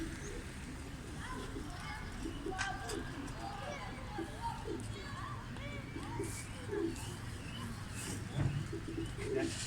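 Pigeons cooing around a rooftop platform on a shanty house, soft repeated low coos against a steady outdoor hum, with people talking nearby and children faintly heard in the background.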